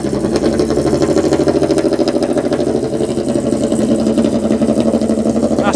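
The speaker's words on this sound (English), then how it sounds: "that is not a lot of silencing on that E30" A BMW E30 with a loud, barely silenced exhaust idles close by, a steady throbbing rumble with no voices over it.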